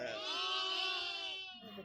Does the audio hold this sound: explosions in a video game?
no